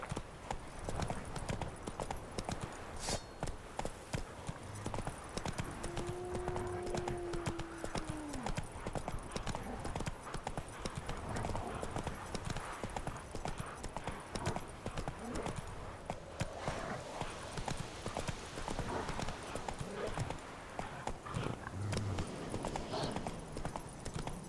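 Roach the horse galloping in The Witcher 3, steady rapid hoofbeats clip-clopping throughout, with a brief whinny and a voice over the running hooves.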